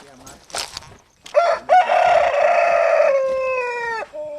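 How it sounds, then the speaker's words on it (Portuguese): Near rooster crowing at dawn during a walk to a bus stop outside Maputo: a short preceding call, then a long, loud, drawn-out cock-a-doodle-doo that tapers at the end. "O galo cantou literalmente enquanto andávamos, evidenciando que era mesmo madrugada"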